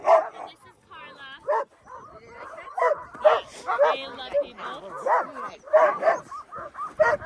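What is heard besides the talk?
dogs barking and whimpering, German Shepherd Alaskan Husky mix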